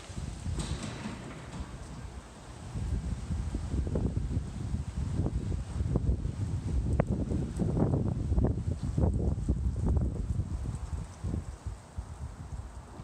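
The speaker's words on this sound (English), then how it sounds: "It's super windy out today" Steady wind buffeting the microphone outdoors, a continuous low rumbling roar with gusty surges throughout and no voices.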